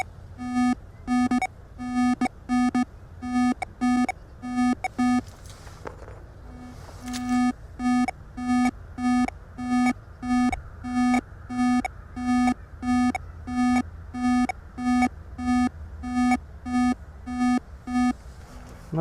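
An XP Deus II metal detector answers a forged medieval nail with a rapid train of pulsing electronic beeps, a steady repeated tone pattern with a brief break midway, clear and close.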